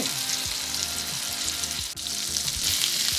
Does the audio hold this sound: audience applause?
no